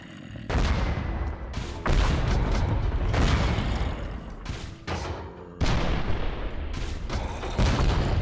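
Grenade launcher explosions from the Minecraft Techguns mod, a video game: several heavy booming blasts in succession, each a loud, broad burst of noise followed by a rumbling tail, with no talking over them.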